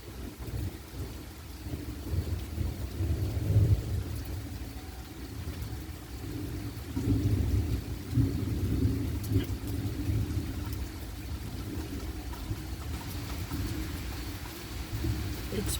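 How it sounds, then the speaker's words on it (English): A morning thunderstorm in Port Huron, Michigan, with steady rain hiss and low rolling rumbles of thunder swelling a few times, while someone talks quietly in places. "Having rain and lightning and thunder."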